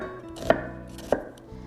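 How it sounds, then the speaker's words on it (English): A knife slices onions on a cutting board with two sharp, distinct chops about half a second apart, close and crisp, with no talk over them. "We're gonna slice some onions."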